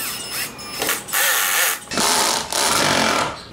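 A power driver sinks screws into cedar strips on a wooden barn-style birdhouse: three loud, close whirring bursts, each ramping up and cutting off, with brief pauses between.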